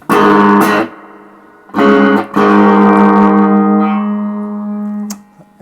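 Distorted electric guitar through a Roland Cube 40 amplifier, set to its maximum breakup at low master volume: three loud strummed chords, the last ringing out for several seconds and slowly fading, with no talk.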